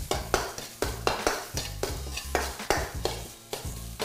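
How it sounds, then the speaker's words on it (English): Ginger fries and is stirred in a hot wok for General Tso's chicken, with about nine regular scraping stir strokes over a steady close sizzle and no talking. "Kinda wanna cook out the rawness of that ginger."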